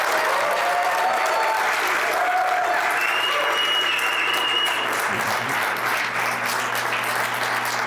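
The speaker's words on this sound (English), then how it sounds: "If I could please get a big round of applause to Trevor Lee." Sustained applause from a crowd, steady and dense throughout, with a few faint whistles rising above the clapping.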